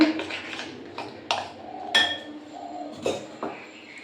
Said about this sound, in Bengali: এইভাবে ভালো করে ফেটিয়ে নেবো একটু